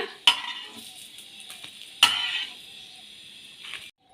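Stirring and frying of an onion snack in refined oil, with a light sizzle throughout and two sharp utensil knocks against the pan, the sizzle fading out near the end.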